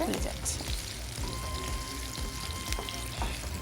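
Sliced onions fry in a pan, giving a soft, even sizzle with occasional stirring clatter and faint background sounds, quiet and close.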